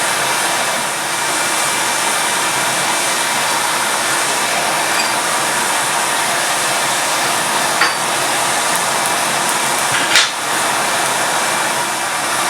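A hair dryer roars continuously at high speed, blowing air into a coal forge, a steady broadband rush of air with a couple of faint clicks.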